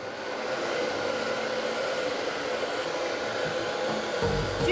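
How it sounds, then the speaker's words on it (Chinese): A hair dryer blows photosensitive emulsion dry on a silk screen-printing screen, a steady close whooshing roar with a constant motor whine that holds throughout with no talk. "均匀的涂上感光剂吹干后"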